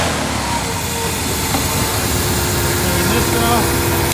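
A turbocharged three-wheeler engine runs steadily nearby with a continuous, loud, even drone and no breaks, while people talk over it.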